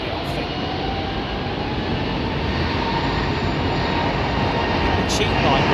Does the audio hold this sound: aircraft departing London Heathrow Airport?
yes